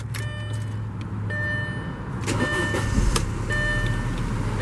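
A 2007 Audi A4 Avant 2.0T Quattro engine starts with a low rumble that settles into a steady idle, with chimes and clicks inside the car.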